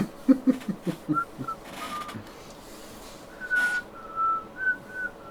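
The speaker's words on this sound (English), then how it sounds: "I'm keeping the whistling going here." Someone whistles a short tune nearby, a few quick low notes followed by longer, higher sustained tones, with no talking.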